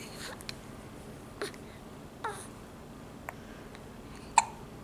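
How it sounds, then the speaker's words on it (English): A toddler hiccups, several short sharp hiccups spaced about a second apart, close by, with the last one loudest and squeakiest. "You have the hiccups, buddy."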